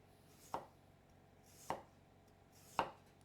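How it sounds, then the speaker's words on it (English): A knife slices through potatoes very thin on a cutting board, three crisp, close chops spaced about a second apart in a quiet room. "I'm going to take my best knife and then just slice these potatoes very thin"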